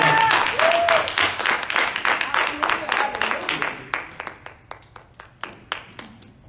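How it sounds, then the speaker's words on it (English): A church congregation applauds a pastor at a Sunday service: dense, loud clapping that thins out after a few seconds into scattered, fading individual claps. "Give him a round of applause."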